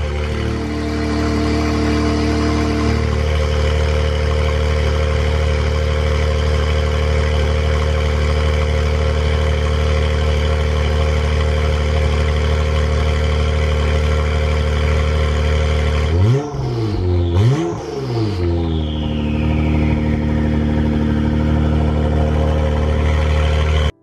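Honda NSX supercar engine idling steadily after start, a continuous loud hum with a brief sharp rev rising and falling near the end, recorded close with no talk.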